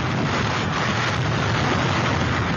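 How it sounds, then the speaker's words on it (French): Roaring hurricane wind at Saint-Martin at the height of the storm, gusts near 300 km/h with driving rain, a loud, unbroken, buffeting roar that fills the whole clip with no voices. "On n'entend plus que le vent."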